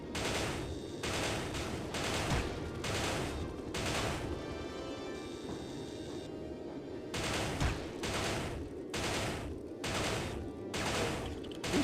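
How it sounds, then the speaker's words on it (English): Sustained automatic gunfire rattles in the shooter game Soldier of Fortune, coming in repeated bursts of rapid shots with short gaps between, fairly loud and steady and with no talking. "Who's shooting at me that I can't reach?"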